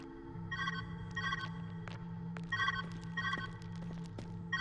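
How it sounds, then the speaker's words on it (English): An electronic ringing tone from the puzzle video game Viewfinder repeats in short bursts of trilling pulses over a low steady hum, faint and without talk. "Where's that ringing coming from?"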